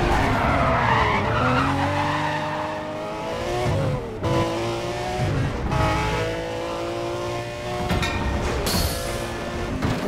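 A Lamborghini Roadster in the racing game Need for Speed World, engine revving up and down through gear shifts with skidding tire squeals, loud and continuous throughout.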